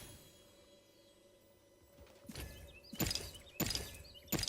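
Several sharp hoof thuds of a horse in the game Realm Royale land in an uneven rhythm after a quiet start, growing louder and closer, with faint background tones.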